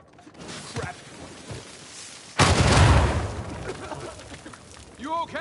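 A sudden explosion bursts in the video game Uncharted 4, a loud rumbling boom that swells abruptly after quieter game ambience and debris sounds, then settles into a lingering roar.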